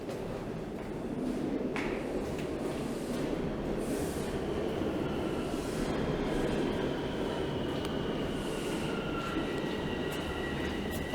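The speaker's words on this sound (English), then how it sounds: "As a southbound train rolls in." A southbound subway train rolls into a station on a Toronto platform, a steady loud rumble of wheels and carriages with faint squeals, continuous throughout with no talk.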